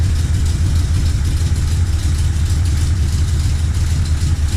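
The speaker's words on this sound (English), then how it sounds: "Man, it sounds good to hear this car run again." A 1979 C3 Corvette engine idles steadily close by, a constant low rumble with a slight uneven throb and no change in revs.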